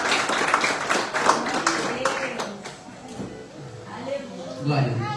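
A church congregation claps in rapid, scattered bursts over the first few seconds, with a voice talking over it throughout and the applause fading under the speech.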